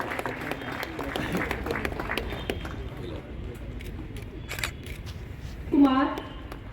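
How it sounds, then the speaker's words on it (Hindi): Audience clapping at an SBI zonal office Mudra Loan programme, thinning out over several seconds with a voice speaking through it, followed by a brief squeaky noise near the end. "सभी से निवेदन है, तालियों से इनका हौसला अफजाई करिए।"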